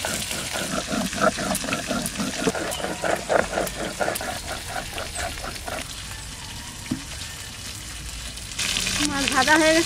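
Magur catfish fries in a pan of oil, the sizzle surging in rhythmic bursts at first, then settling into a steadier hiss before swelling louder at the end; no one speaks.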